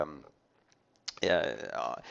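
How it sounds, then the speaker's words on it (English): A computer keyboard key is pressed in recording software, giving a few faint, quick clicks in near-silence, followed at once by someone talking. "if I press keyboard E"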